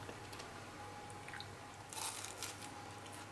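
Someone bites into a cheese and Vegemite scroll, giving a soft, close crunch and a few brief chewing sounds over a quiet room hum, with no talking.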